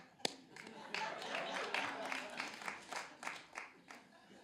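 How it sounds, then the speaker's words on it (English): A small audience at a storytelling comedy show gives a brief, scattered round of polite clapping: a few sharp claps, then a thin, uneven patter that swells and fades over several seconds. "I think that's a courtesy clap."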